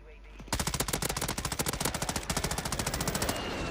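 Automatic gunfire in Call of Duty on Rebirth Island, a loud, steady rapid-fire burst of evenly spaced shots lasting about three seconds, starting abruptly after a quiet moment.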